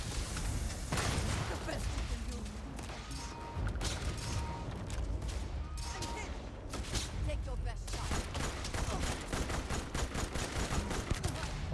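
Gunfire during a firefight with enemies in the video game Starfield, rapid bursts of shots and mechanical clatter layered through a busy battle mix, with a voice talking over it.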